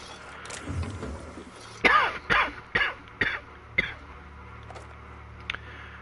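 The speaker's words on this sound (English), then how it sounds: "I just love snacks that are so dry they make you cough." A character in The Outer Worlds video game coughs in a run of five or six harsh, close bursts, fading into quieter background sound.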